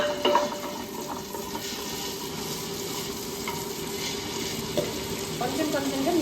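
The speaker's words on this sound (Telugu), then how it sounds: "ఈ గ్రైండర్లో వేసుకొని రుబ్బుకోవాలి" A wet grinder churns soaked black gram batter, giving a continuous swishing, sloshing grind at a steady level throughout, with a few faint clinks.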